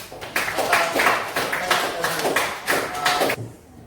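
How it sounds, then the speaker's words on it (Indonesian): Classroom applause as students clap together in bursts of quick, dense hand claps, moderately close, with voices talking over the clapping before it stops abruptly near the end. "berikan dulu aplaus"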